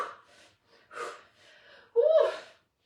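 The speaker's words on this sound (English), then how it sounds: "And breathe" Heavy exhaled breaths during a glutes and hamstrings floor workout, several soft puffs building to a loud, forceful gasp near the end, close and alone without talk.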